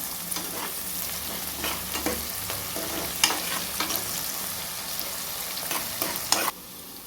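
Onions for mutton biryani fry in a pan, a continuous loud sizzle broken by repeated scraping stirs of the spoon, with sharper clacks against the pan near the middle and end.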